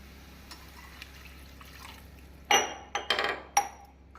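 Ground coconut paste stirred in a pan for a banana flower kuzhambu, quiet faint scraping followed by a few sharp metallic clinks and a splash of water being poured in, close by.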